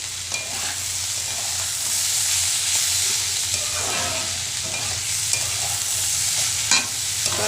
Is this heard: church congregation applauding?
no